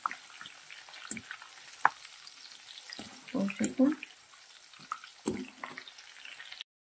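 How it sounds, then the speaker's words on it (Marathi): Green chillies frying briefly in hot oil for bhadang chivda masala, a soft sizzle broken by sharp spattering pops and clinks, close and moderately quiet, with no talk. "5-6 मिरच्या हिरव्या तळून घ्यायच्या आहेत."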